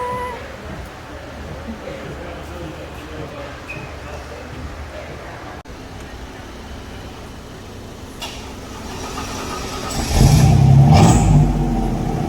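A 1987 V8 car fitted with a new custom exhaust idles with a steady low background rumble, then barks loudly to life near the end with a deep, heavy burst of revving.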